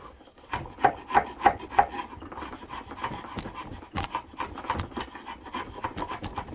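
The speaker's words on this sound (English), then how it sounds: "you don't even need to use a hammer if the chisel is sharp" A sharp chisel pares wood by hand for a half lap joint, giving a run of close, rasping scrapes that fall into a rough rhythm, with a few stronger strokes early on and no hammer blows.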